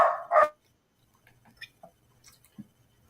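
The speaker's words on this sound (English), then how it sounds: "the dogs like it when Lorelai comes home, and so they go crazy" Several dogs barking excitedly in a home as someone arrives, two loud close barks at the start followed by scattered fainter yips and rustling movement.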